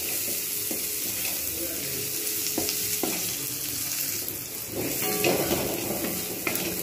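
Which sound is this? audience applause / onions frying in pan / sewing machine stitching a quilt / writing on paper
onions frying in pan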